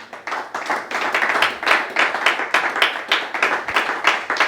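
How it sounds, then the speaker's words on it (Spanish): A church congregation claps loudly and rhythmically, the beats landing in a fairly regular pulse, close and strong, with no voices over it. "Vamos a darle un aplauso al Señor, fuerte."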